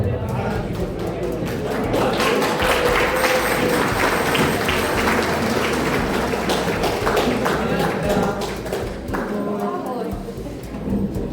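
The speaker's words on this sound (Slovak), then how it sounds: "Ďakujem nielen za ten potlesk" Sustained applause from a seated audience fills a formal evening ceremony with memorial certificates, dense and steady clapping throughout at close range, no voices standing out.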